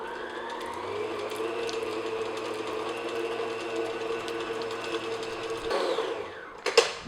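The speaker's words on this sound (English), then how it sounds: "I'm just going to beat this on medium speed just until it's nice and creamy and smooth" An electric mixer beats butter on medium speed for shortbread cookie dough, giving a steady motor hum with a mechanical whir that drops off near the end, followed by a couple of clinks.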